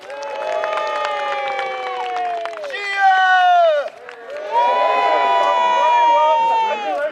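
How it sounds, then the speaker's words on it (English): A crowd cheers and shouts for a knight at a jousting combat display at Cardiff Castle, with many voices mixed in a sustained, loud roar that dips briefly and then rises again. "Can I have a cheer for Sir Walter Ottersley?"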